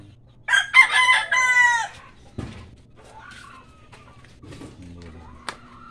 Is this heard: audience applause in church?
no